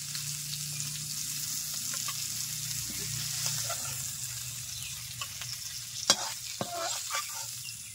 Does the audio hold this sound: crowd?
no